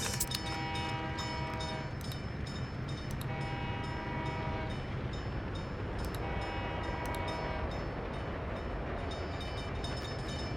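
Trains in the city-building game Workers & Resources rumble continuously while sustained horn blasts sound repeatedly, several long tones overlapping the steady rail noise, with no voices.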